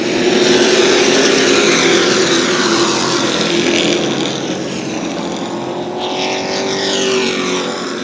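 Sportsman race cars at full throttle on the New Smyrna Speedway oval, a loud continuous engine roar with whining, shifting pitch as cars pass, steady throughout and slightly fading midway.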